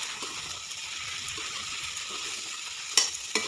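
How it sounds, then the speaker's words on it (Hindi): Potatoes and beans fry steadily in a pan with a continuous soft sizzle and a couple of sharp clinks near the end, no voices present. "अब आलू को फ्राई होते 1 मिनट हो गए हैं"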